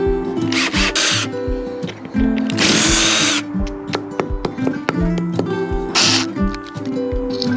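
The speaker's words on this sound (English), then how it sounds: "Now I'll swap it out for this 7mm drill bit to get the plugs in." A power drill with a 7mm bit whirs loudly in repeated bursts, drilling holes for wall plugs, starting and stopping several times, with clicking and handling noises between runs.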